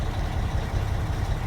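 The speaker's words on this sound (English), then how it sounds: "when I time that one, I'll have to bring the RPM to 1500" A truck engine runs at steady raised revs during a brake test, giving a dense, even low rumble with no pauses over the short stretch.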